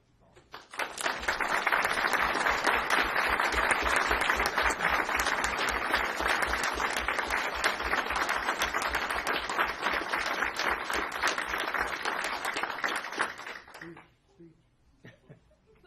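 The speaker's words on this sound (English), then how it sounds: "I think we owe these girls a big round of applause and coaches also." A city commission meeting audience applauds the girls' national runner-up hockey team and coaches, a loud dense burst of clapping sustained for about twelve seconds before fading quickly, with faint laughter near the end.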